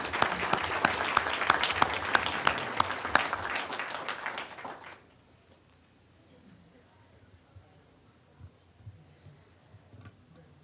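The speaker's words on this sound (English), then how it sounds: "join me in one more round of applause for our winter VHSL state champions" An audience at a school board meeting claps steadily for about five seconds, then the applause cuts off and faint room noise with a few small knocks follows.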